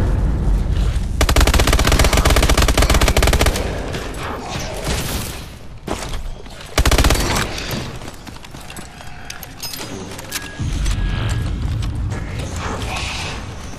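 Loud, dense gunfire from Call of Duty: Advanced Warfare on the Exo Zombies map Descent: sustained rapid automatic bursts and mechanical clatter mixed with game effects, continuous with only brief dips.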